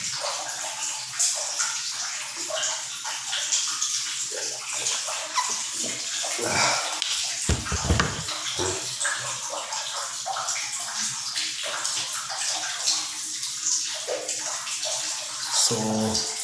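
Water pours steadily into a tub, a continuous rushing splash with slight gurgling changes and no speech.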